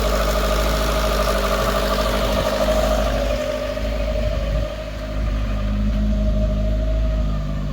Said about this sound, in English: So all that's done is increase the revs.